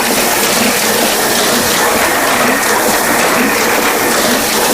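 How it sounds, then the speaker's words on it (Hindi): An offset printing press runs off wedding invitation cards with a loud, dense mechanical clatter of rapid rhythmic ticking and whirring, steady and close throughout with no pauses. "तो फाइनली कार्ड हो रहे हैं प्रिंट"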